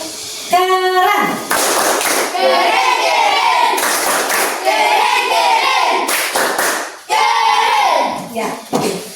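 A class of children claps in quick rhythmic rounds, with loud close bursts of hand claps mixed with young voices chanting and calling out between them.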